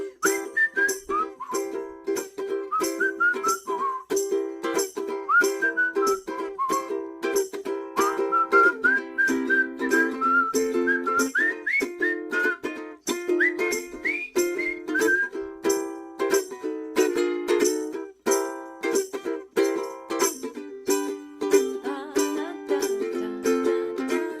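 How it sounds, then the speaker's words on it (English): A person whistles a lively melody, clear and close, with a ukulele plucked underneath. "All right, whistling time."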